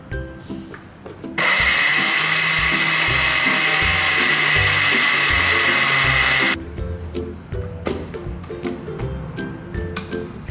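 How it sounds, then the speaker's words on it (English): A grinder pulverises chunky peanuts into powder in one loud, high-pitched whirring burst of about five seconds, with quieter clinks and handling noises before and after. "The texture of the peanut is a bit chunk, so we're going to grind it to a more powdery peanut."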